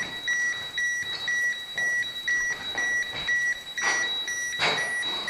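A radiation dosimeter at Chernobyl sounds repeated high electronic beeps in an irregular, fairly quick series, close and clear against a quiet room with faint background noise.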